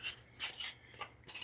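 A craft blade slicing through foam, three or four short, soft, hissing cutting strokes close by with brief pauses between them.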